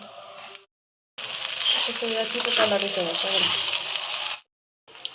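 Chilli chicken fried rice with spring onion, sugar, garam masala and MSG being stir-fried in a wok, a steady loud sizzle with scraping stirs, cutting off abruptly into silence and briefly resuming at the end.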